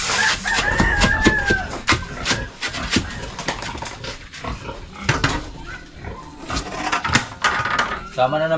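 Chickens and a rooster cluck and crow in a busy farmyard, with dogs and other animals nearby, mixed with clattering and people talking throughout.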